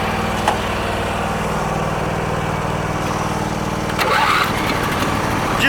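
A Husqvarna or Craftsman riding lawn mower engine, already warm and started without choke, cranks and fires up, then settles into a steady, fairly loud idle.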